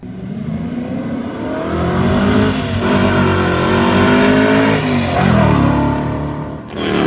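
Car engines rev hard at a car show meet, a loud continuous roar that rises and falls in long swells as throttles are opened and released nearby.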